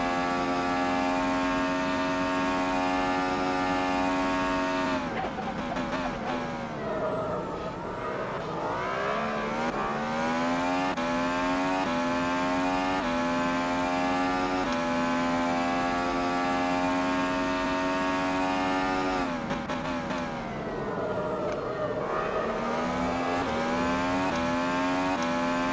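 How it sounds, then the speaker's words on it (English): An F1 car engine in the racing simulator rFactor 2, a loud, continuous high-pitched whine rising through the gears with short dips on downshifts, heard alone throughout. "we're in an F1 car around an F1 track"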